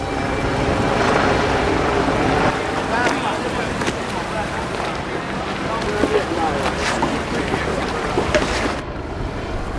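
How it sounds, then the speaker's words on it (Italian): A boat moving through floodwater in a flooded city, giving a steady, continuous wash of engine and water noise with wind buffeting the microphone throughout. "Mi sento in dovere di prendere la mia barca e documentare quello che sta accadendo nella mia città."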